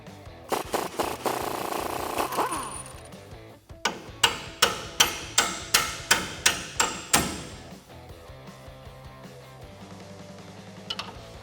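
Repeated sharp metallic blows ring out while a suspension nut is knocked loose with a swivel socket tool during a strut spacer leveling kit install on a 2006-2018 Ram truck, a rapid burst followed by a steady run of about ten strikes.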